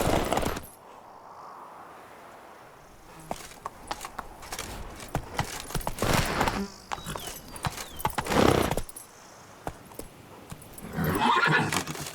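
Horse in The Witcher 3 video game, with neighs and whinnies over clip-clopping hooves, several loud bursts between quieter stretches of hoof steps and faint insect buzz.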